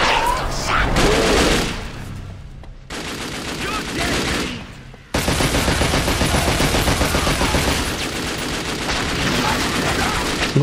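Gunfire from the video game The Darkness comes in dense, loud, rapid fusillades with a brief lull partway through, and voices cut in now and then over the shooting.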